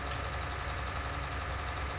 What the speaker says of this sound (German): Ich mache jetzt den Motor mal an von dem Ganzen.